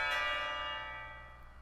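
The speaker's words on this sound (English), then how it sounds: "But the bell rings and cuts me off." A school bell in the visual novel game Katawa Shoujo rings out with a single resonant, bright metallic tone that slowly decays, heard alone without speech.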